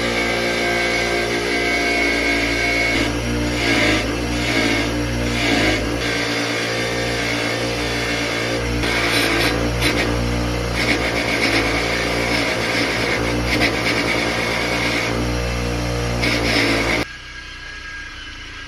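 Parts of a 1920s Keystone Iron City hand crank grinder being cleaned of stuck grease on a spinning wire wheel, a loud steady whirring motor drone with scratchy grinding bursts, cutting off near the end.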